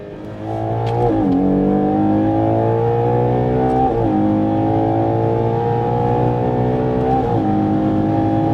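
A Ferrari Purosangue engine at full throttle on the Autobahn, heard from inside the cabin as a loud, sustained rising roar that climbs through the revs with several quick gear changes, each marked by a brief dip before pulling again.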